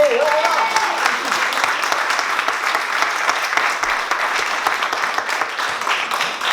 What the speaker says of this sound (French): Merci, applaudissez.